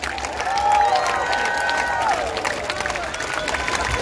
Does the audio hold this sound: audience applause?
yes